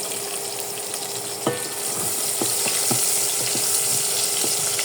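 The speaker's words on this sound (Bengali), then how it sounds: "এই পেঁয়াজটা দেখুন ভাজা ভাজা হয়ে গেছে।" Onions and green chillies fry with whole cumin in hot oil, giving a continuous bright sizzle with a few soft knocks of a spoon against the pan.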